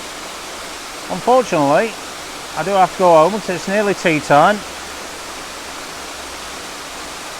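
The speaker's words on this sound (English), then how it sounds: "The sound of the water" Holden Clough waterfall gives a steady broadband rush of falling water throughout, with someone speaking over it in the middle.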